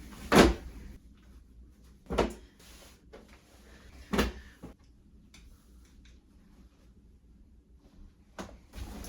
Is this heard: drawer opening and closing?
yes